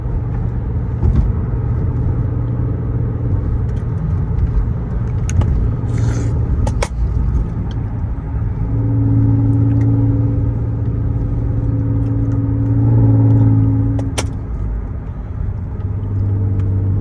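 An Audi TT with a VR6 engine, very loud, drones and rumbles steadily from inside the cabin while driving, swelling as it revs higher toward redline, with a few sharp knocks and rattles over the continuous engine tone.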